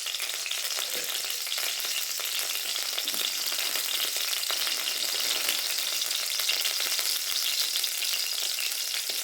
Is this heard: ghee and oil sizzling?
yes